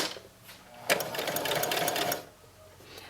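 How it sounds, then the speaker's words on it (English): A sewing machine runs a short burst of stitching along the edge of felt for a stuffed bat pillow, a steady close whirring of about a second, between quieter pauses with no talk. "I'm just stitching right on the edge of this felt"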